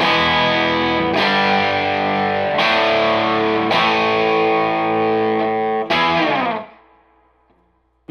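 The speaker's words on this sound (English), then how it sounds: "it's kind of right on the edge of distortion" Repeated electric guitar chords ring out through an amp with an attenuator, gritty and on the edge of distortion, each strum sustaining before the last one fades into near silence.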